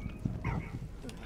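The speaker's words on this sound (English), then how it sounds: "Stop barking." A dog barks and whimpers in the video game Valiant Hearts, a couple of short, fairly close barks over a low rumbling background.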